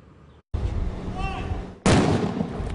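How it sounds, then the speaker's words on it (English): A firecracker blows apart a watermelon at a firefighters' fireworks safety demonstration, one sharp loud bang after a brief hush and a tonal sound, followed by a burst of noisy debris and commotion. "LA County firefighters blew up a watermelon using a firecracker"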